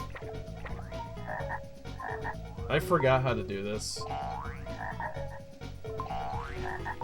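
Cartoonish frog croaks and springy boing effects from the Glover video game, repeated and fairly loud over game music, while someone talks over them.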